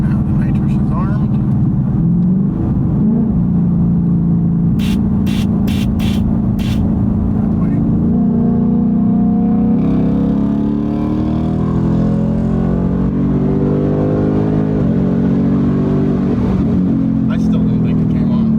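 A car engine under a nitrous test revs and drones steadily near the microphone, its pitch rising and falling in waves, with several sharp clicks early on and talk over the top.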